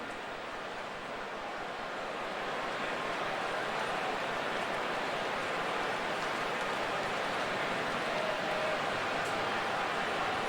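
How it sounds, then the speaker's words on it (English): Light rain sprinkling over Wrigley Field during a Royals–Cubs baseball game, a steady broadband hiss of drops that holds evenly throughout with no voices over it. "It has just started to rain."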